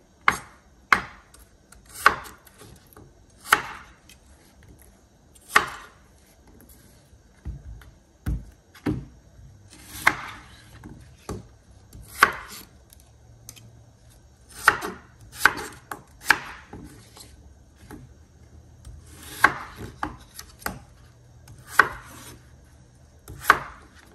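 Vegetables being chopped for a Mexican seafood soup, each knife stroke a sharp thunk on the cutting board, coming in irregular single hits and quick pairs, close and clear against a quiet room with no talk.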